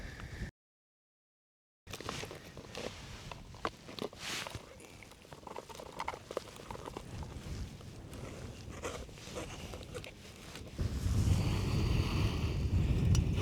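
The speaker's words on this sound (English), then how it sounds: "Might be too windy." Wind blows across open Alaskan wilderness, buffeting the microphone in a steady rough rumble that cuts out briefly near the start and swells into a stronger, louder gust toward the end.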